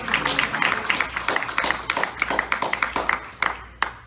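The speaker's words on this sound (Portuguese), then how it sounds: "Quem pode aplaudir ao Senhor?" A church congregation claps in a loose, fairly quick rhythm, the individual hand claps distinct and close, with some voices murmuring underneath.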